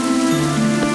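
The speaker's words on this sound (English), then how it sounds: "when it started to rain" Steady rain falling in a Pinocchio fairy-tale audio story, a continuous soft patter and hiss lasting the whole second, blended with sustained tonal background music.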